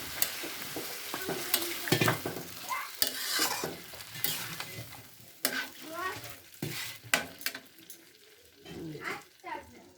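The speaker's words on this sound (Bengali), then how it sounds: "এখন আমি মাছ দিয়ে দিলাম।" Katla fish frying in a pan, giving a steady close sizzle under constant stirring and scraping, with sharp bursts of spitting oil and a voice in the background.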